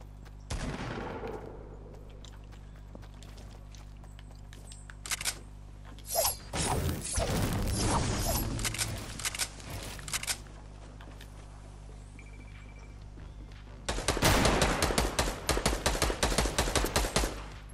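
Rapid gunfire from the video game Fortnite in a duos match, several loud bursts of shots with clicking weapon mechanisms between them, ending in a dense, sustained volley.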